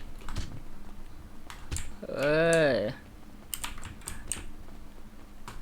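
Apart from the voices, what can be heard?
keyboard keys pressed in rhythm playing GTA V FiveM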